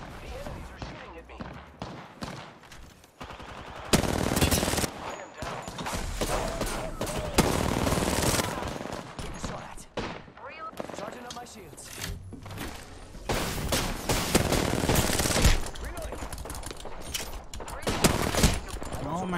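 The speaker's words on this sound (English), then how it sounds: "The enemies are shooting at me." Enemy gunfire in Apex Legends comes in dense, loud bursts of rapid shots and crackling impacts, with short gaps between volleys and voice chatter mixed in.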